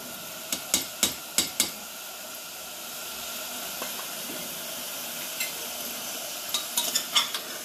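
A steady low sizzle of garlic frying in ghee or butter in a pan, broken by sharp metal clinks of a spoon tapping and scraping, in a quick cluster early and again near the end.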